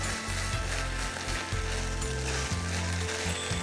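Korean beef and garlic chives stir-fry in a hot pan with sesame oil, giving a steady close sizzle broken by rhythmic scraping and tossing knocks throughout.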